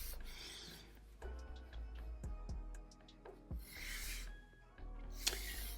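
Pencil scratching lines across paper while sketching a dinosaur head, soft close rubbing strokes in short sweeps with brief gaps, quiet and alone.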